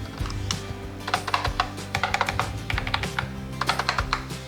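Fingers type on a chunky white keyboard in bursts of close, crisp clicking keystrokes, with short pauses between flurries and no voices.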